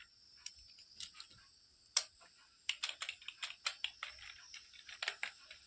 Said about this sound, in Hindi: यहाँ पे एलएस टाइप करेंगे